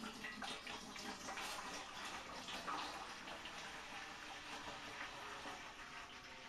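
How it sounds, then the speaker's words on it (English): Spring water pours into a stock pot in a steady, quiet splashing gush that runs continuously without a break, soft and close, with no voices. "And you just pour it in the stock pot."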